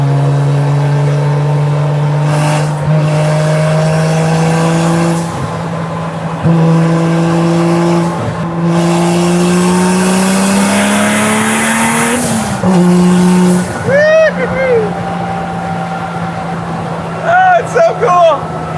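Turbocharged 2JZ-swapped 1968 Dodge Charger pulling hard from inside the car, a loud steady engine drone with rising pitch through gear pulls, a brief shift dip, and a voice speaking over it near the end.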